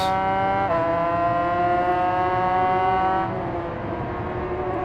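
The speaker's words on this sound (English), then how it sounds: "Wide open on the throttle" A racing motorcycle engine in Ride 5 screams at full throttle with a steady high-pitched whine, rising briefly and then easing slightly as it shifts, loud and close with no talk.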